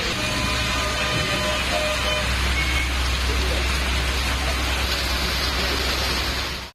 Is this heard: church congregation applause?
no